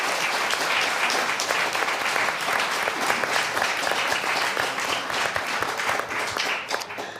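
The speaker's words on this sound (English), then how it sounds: "That deserves a round of applause." An indoor audience at an art museum talk applauds, a dense, sustained burst of clapping from many hands that holds steady for several seconds before tapering slightly at the end.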